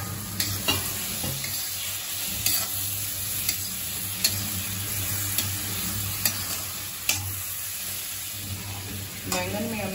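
Fried potatoes are stirred into a sizzling stuffed aubergine and potato masala, with a steady moderate sizzle broken by regular sharp taps and scrapes of a spoon against the pan.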